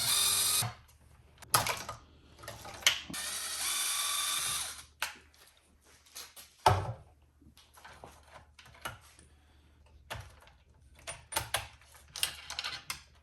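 A ratchet tool unfastening the top brace on an Arrma Limitless GT RC car, with intermittent close whirring bursts and clicking ratchet spins separated by short pauses.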